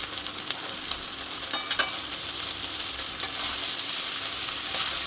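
Boiled pasta and fried eggs are stirred in a pan for egg chicken pasta, a steady sizzle with a few light scraping stirs near the start.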